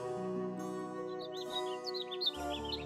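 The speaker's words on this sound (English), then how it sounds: "These birds are loud as hell" Several birds chirp and tweet in quick, overlapping bursts within the Baten Kaitos video game, laid over a steady sustained musical drone, with the calls growing busier toward the end.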